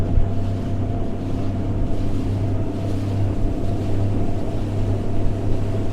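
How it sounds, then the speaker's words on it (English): Nitro Z21 boat with a Mercury 250HP Pro XS outboard accelerating, a loud steady engine drone with a low hum, rushing water and wind noise filling the background; no talking. "Adding a little more throttle here."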